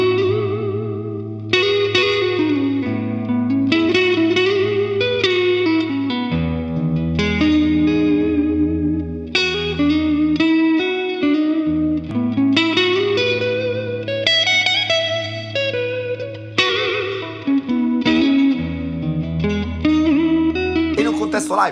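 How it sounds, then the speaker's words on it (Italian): Electric guitar played through a Carl Martin HeadRoom Mini reverb pedal set to a deep, enveloping reverb, sustained chords and melodic lines ringing out with long washy tails, steady and full for the whole passage with no talking. "il canale B possiamo impostarlo per un riverbero profondo e avvolgente"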